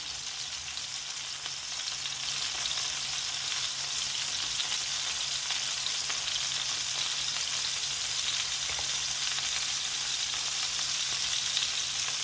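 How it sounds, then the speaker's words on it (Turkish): Stuffed tomatoes frying in a pan make a dense, steady sizzle that stays loud and close throughout, with only faint crackles and no voices. "Kızarmaya başladılar."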